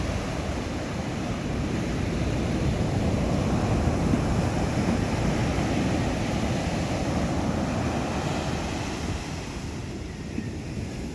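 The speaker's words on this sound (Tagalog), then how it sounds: "hampas ng alon sa dalampasigan" Steady roar of surf washing onto a shore, continuous and loud, with wind noise blended in and no talking.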